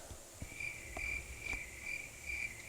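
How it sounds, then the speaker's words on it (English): Crickets chirp in a steady repeating pulse, bright and evenly spaced, standing alone as a quiet inserted night ambience with no voices. "I'm gonna insert crickets."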